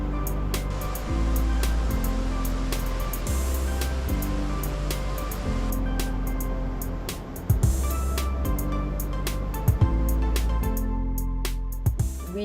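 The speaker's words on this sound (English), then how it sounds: "just watch the waterfall from a distance." A waterfall in Munnar, Kerala, heard from a distance as a constant broad rushing roar, with low engine-like hum and a few sharp knocks over it.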